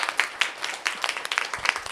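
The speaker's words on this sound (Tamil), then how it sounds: "உண்மையிலே இந்த குழந்தைகளுக்கு மிகப்பெரிய ஒரு கரகோஷம் நம்ம எல்லாருமே கொடுக்கணும்" A crowd at a Children's Day variety program claps in a brief burst of sharp, uneven handclaps, fairly close and loud.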